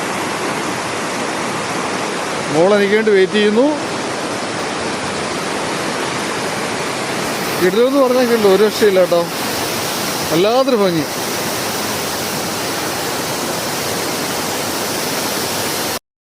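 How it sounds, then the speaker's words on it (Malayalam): A small forest stream flows near a temple at Mukkada, Erumeli in Kottayam, giving a steady, close rushing of water that runs the whole time, with a person speaking in a few short bursts over it. "നോയിക്ക് ചെറിയ ഒരു അരുവി ഒഴുകുന്നുണ്ടോ."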